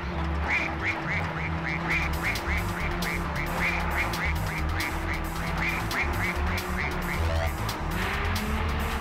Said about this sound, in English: Everybody is ducks. And yes, they all quack.